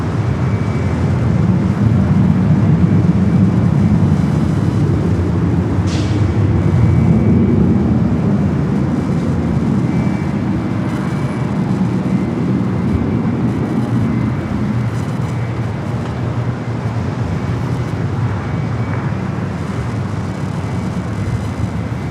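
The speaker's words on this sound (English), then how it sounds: "Flight coming in from Dallas." An airliner from Dallas arrives at San Diego airport, heard as a long, steady broadband roar that stays loud throughout, with no voices.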